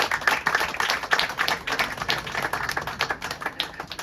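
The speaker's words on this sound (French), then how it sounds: "je crois qu'elle mérite d'être à nouveau applaudie" Guests at a restaurant ceremony applaud Fabienne with dense, steady clapping that fills the room and holds for several seconds without talk.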